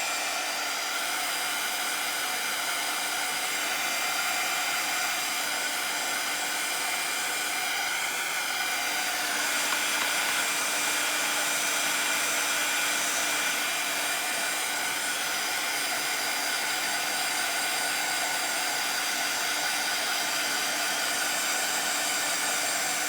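A hair dryer blows at full power over a freshly stencilled address sign, a loud constant airy roar with a steady motor whine throughout, no voices.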